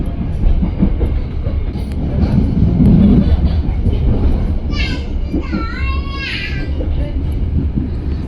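A mixed economy and executive class passenger train passes straight through Cirebon station on track 2, a steady loud rumble of rolling cars with clattering and squealing wheels, while a nearby voice talks over it.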